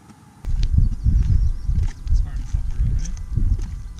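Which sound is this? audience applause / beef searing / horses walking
horses walking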